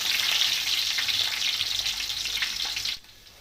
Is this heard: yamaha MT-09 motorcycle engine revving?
no